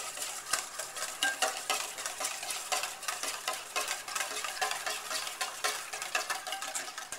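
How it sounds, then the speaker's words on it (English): A whisk clicks briskly and rhythmically against a bowl of egg yolks as hot milk is added, a steady rapid stirring sound with no talking. "we want to do it slowly while whisking it to prevent it from coagulating"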